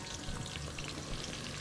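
Onions frying with spices in a pan for an Egyptian seafood and rice dish, giving a steady, close crackling sizzle that stays even throughout with no talking.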